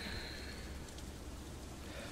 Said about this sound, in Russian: я обнаруживаю, что снаружи идет дождь, громко стуча в окно, подгоняемые порывами ветра